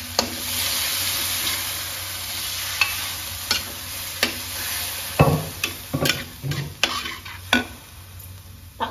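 Hot oil sizzles steadily as chicken fries in a pan, with sharp, loud pops and crackles of spattering oil bursting irregularly, more often toward the end, with no talk.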